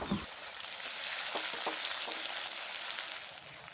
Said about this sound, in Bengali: এবার আমি এর মধ্যে দিয়ে দিলাম কেটে রাখা পেঁয়াজ পেঁয়াজটাকে একটু লালচে করে ভেজে নেবো